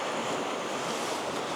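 Ocean waves at high tide on the Connecticut coast, a steady broadband wash of surf mixed with wind rushing across the microphone, close and moderately loud.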